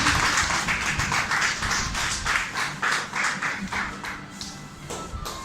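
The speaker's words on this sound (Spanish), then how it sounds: "Entonces démosle un aplauso al Señor." A church congregation claps in praise, a steady run of hand claps across the clip with a moderately loud, slightly uneven rhythm and no clear talk over it.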